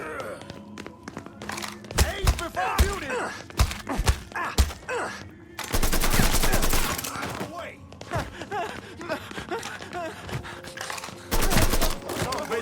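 Bursts of gunfire in the Mafia 3 video game, volleys of shots crackling in dense clusters with louder sustained barrages near the middle and end, while voices shout and talk over the fighting.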